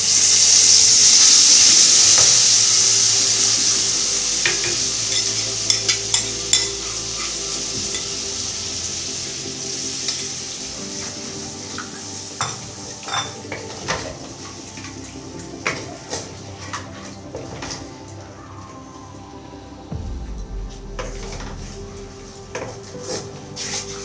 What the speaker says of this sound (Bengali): এবার এই মশলাটাকে ভালো করে কষিয়ে নেব।